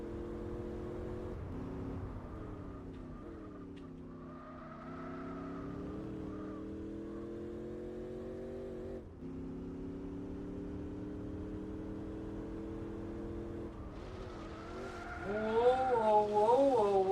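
A TVR race car in Gran Turismo 4 holds a sustained, droning engine note that rises and falls through the gears, with brief tyre squeal toward the end and occasional speech over it.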